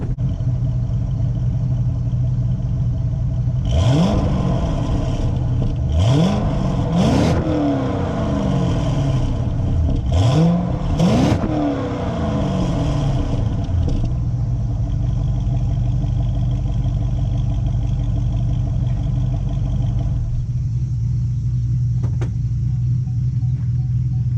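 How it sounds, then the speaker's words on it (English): A twin-turbo C5 Corvette exhaust idles loudly with a deep rumble, then several sharp revs rise and fall in quick succession before settling back to idle. "let's get some exhaust pitches here before we start our journey"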